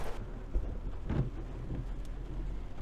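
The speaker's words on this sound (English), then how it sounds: "Now all day, all day it's been raining" Steady rain falls through a wet day, a dense even wash with low rumbling gusts of wind or distant thunder swelling around the middle, close and fairly loud with no voices.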